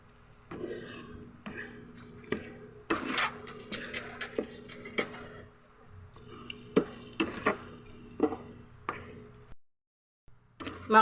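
Egg cooking with ampalaya and pork in a pan, with repeated scraping and stirring strokes, light sizzling and a few clinks of utensil on pan in uneven bursts, pausing briefly near the end.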